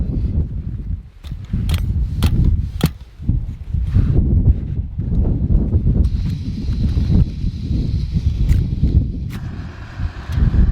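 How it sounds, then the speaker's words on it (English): Strong wind buffets and roars across the microphone in continuous gusts at a summit camp on Meall nan Tarmachan, with a few sharp knocks and a faint higher tone drifting in later. "It's a wee bit windy for filming just now"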